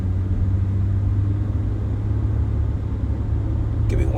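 A car driving along a road, its steady low engine and tyre rumble continuous and close, as from inside the vehicle, with a faint brief sound near the end.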